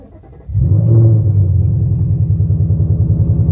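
A supercharged 2024 Ford Mustang GT running on E85 fires up: a sharp crank catch, then a loud, steady low rumbling idle with a pulsing exhaust beat that settles, with no talking.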